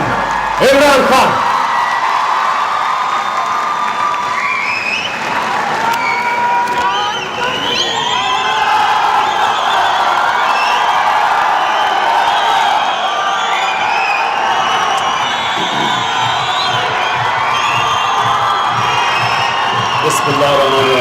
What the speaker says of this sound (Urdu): ہاتھ اٹھا کے تالیوں کی گونج میں استقبال کیجیے وزیر اعظم عمران خان.